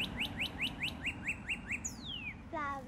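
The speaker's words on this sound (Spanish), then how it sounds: "lo bueno de los animalitos y los pájaros es que uno puede aprender cómo cantan." Birds singing: a rapid run of about eight evenly spaced chirps, then a long descending whistle and a brief buzzy call at the end, clear and close over a soft noisy background.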